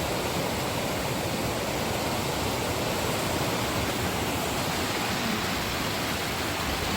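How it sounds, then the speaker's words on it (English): Raging stream water rushes beneath a footbridge in the Smoky Mountains in spring, a dense, loud, unbroken roar filling the whole soundscape with no voices. "Here's Christopher, across the raging water"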